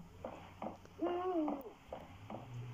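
Owl hooting in the video game Dentures and Demons: soft, low, repeated hoots, with one longer, clearer call in the middle, fairly quiet against a faint ambient background.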